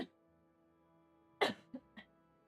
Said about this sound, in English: I actually have to cough right now